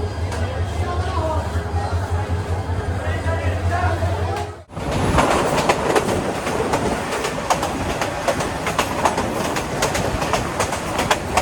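A commuter train runs on rails between Jamalpur and Dewanganj in Bangladesh, a loud continuous rumble that changes abruptly midway into brighter clattering wheel noise and rushing wind, heard from on board.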